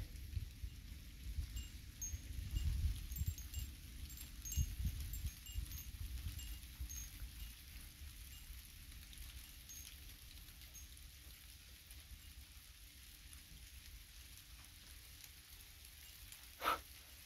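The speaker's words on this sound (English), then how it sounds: "Say it is raining." Soft, steady rainfall hissing in the background during a storm, quiet and continuous, with a brief faint rumble of thunder early on and one sharp tap near the end.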